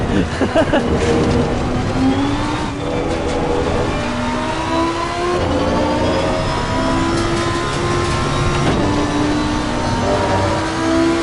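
A racing car engine in the racing game Assetto Corsa Competizione at Zolder revs and shifts continuously, loud and close, pitch climbing and dropping through gear changes with a steady whirring drone underneath.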